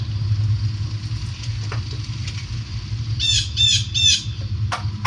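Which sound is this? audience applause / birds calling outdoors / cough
birds calling outdoors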